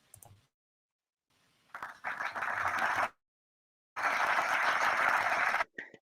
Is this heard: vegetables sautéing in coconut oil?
no